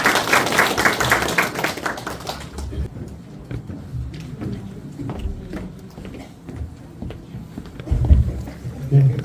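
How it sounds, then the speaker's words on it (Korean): Applause welcoming a presenter at a policy forum on elderly policy for a super-aged society. A brief burst of audience clapping is followed by quieter room noise and scattered taps. "박수로 환영해 주시기 바랍니다."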